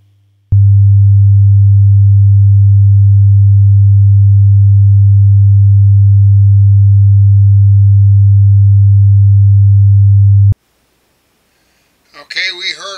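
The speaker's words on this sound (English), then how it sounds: "first tone I'm going to generate is going to be a sine wave" A steady, pure 100 hertz sine tone holds constantly for about ten seconds, then stops, followed by a brief bit of speech.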